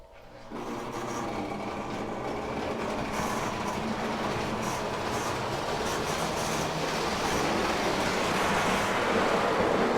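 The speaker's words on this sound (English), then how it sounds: "we got the U36C running up top" An O gauge U36C model locomotive runs on a layout, apparently needing lubrication, giving a steady, continuous mechanical whirr and rumble that builds slightly over time, with no one speaking.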